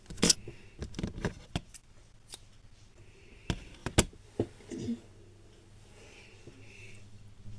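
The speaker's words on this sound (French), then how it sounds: "vous allez couper le fil." Scissors snip through crochet yarn while finishing an amigurumi Luffy body from One Piece, a few sharp close clicks and snips in quick succession, then quieter handling rustles, with no talking.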